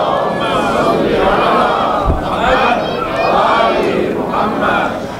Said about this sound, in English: You can do a much better salawat than that